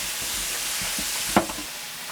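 Beef cecina cooking in a pan for huaraches with chorizo, giving a steady broadband sizzle with a brief louder clatter, heard alone and close.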